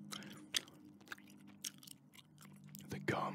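Gum chewed close to the mic in soft, moist smacks and occasional sharper clicks, spaced irregularly. A quiet voice murmurs under it.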